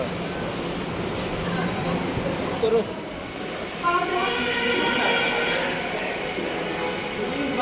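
A metro train rumbles and rattles past overhead on an elevated track in Uttara, Dhaka, with rising mechanical whine, while people talk close by.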